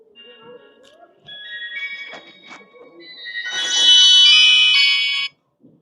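A mobile phone ringtone plays during a spoken religious talk, a melodic electronic tune that swells louder and brighter toward the end before cutting off abruptly, with a voice faintly present early on.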